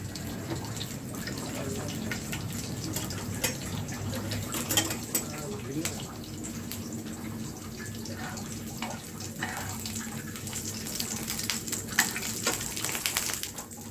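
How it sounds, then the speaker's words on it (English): Green chili frying in hot oil with cumin seeds for fried rice, a steady close sizzle and crackle with small sharp pops throughout and no talk. "I will put some green chili into it. It will now fry."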